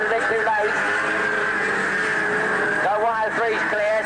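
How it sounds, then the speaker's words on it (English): Race cars lapping Ringwood raceway in 1986, a steady loud engine drone with rising and falling pitch as cars pass, under continuous race commentary. "Number 16, Les Bones, struggling in that 16 car, the blue-grey driver."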